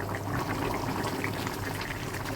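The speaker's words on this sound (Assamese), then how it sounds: "এতিয়া উতলিব দিম ভালদৰে।" A chickpea curry (ghugni) with green chillies boils in a pot, giving a steady, close bubbling and gurgling of liquid that carries on evenly without talk.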